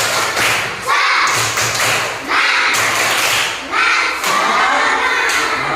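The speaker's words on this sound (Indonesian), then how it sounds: "Ayo tepuk semangat." A group claps a loud, energetic rhythmic cheer pattern together at close range, with thumping bursts separated by brief pauses and some voices shouting along.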